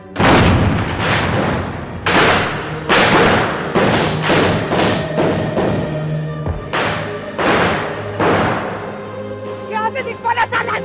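Gunshots are fired into the air in a historical drama, a series of loud, sharp booming reports spaced irregularly and fairly close, each with a brief echoing tail.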